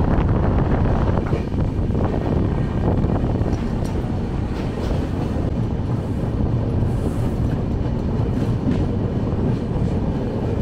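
The Kamrup Express rolls into Rangiya Junction with a loud, steady rumble of wheels on track and wind buffeting, heard from on board, with no pauses or voices.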